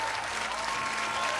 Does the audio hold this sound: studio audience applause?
yes